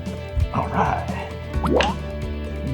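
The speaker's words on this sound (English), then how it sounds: "We got it to drip in." Liquid drips and trickles into place during an overhead galley repair aboard an Endeavour 52 sailboat, a few close wet plops with someone talking over them.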